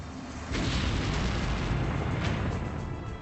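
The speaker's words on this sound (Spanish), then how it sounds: "La fuerza de la explosión paró la batalla en seco." A deep, rumbling explosion from a historic battle at Kazan bursts in after a brief quiet start and roars on steadily, heavy and low with no voices.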